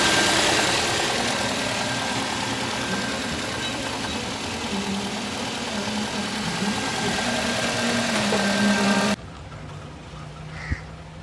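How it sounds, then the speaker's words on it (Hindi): Toyota GLI car engine idling steadily after a tappet adjustment, a continuous close mechanical hum that cuts off abruptly near the end, leaving quieter background noise and a brief knock. "ये आप देख सकते हैं बेहतरीन साउंड है गाड़ी स्टार्ट करी।"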